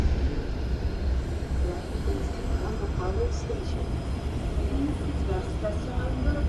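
A train runs past in a steady, continuous rumble of wheels and carriages at middle distance, with muffled voices faintly in the background.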